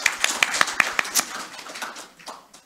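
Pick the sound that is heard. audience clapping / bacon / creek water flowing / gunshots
audience clapping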